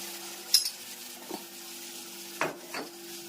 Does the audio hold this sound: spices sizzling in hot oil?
yes